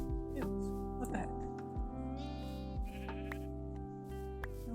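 Sheep bleating in Minecraft, several drawn-out cries in a row at close range, loud and unbroken over a steady layer of game music or ambience.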